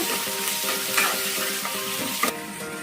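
Puffed rice tempering with onions stirred in a pan over high flame, a steady close sizzle and frying hiss with scraping stirs and a couple of sharper clatters.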